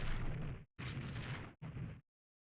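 Naval gunfire from ironclad warships in the strategy game Rule the Waves 3: three loud, heavy booming blasts in close succession, each a broad rumbling burst with a short gap between them, then silence.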